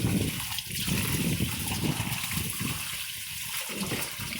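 Filtered water gushes steadily into a clean cup, a continuous broad rushing splash that stays loud and even throughout with slight fluctuations, close by and without any talking.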